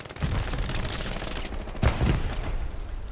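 Machine-gun fire in the World War II shooter Hell Let Loose, dense continuous bursts with a heavier cluster of shots partway through, loud and unbroken.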